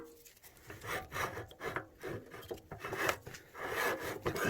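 A bolt-head hole is drilled with a 1.1 mm bit into a handmade wooden slingshot handle, giving close, uneven scraping and grinding bursts that rise and fall, with a brief pause near the start.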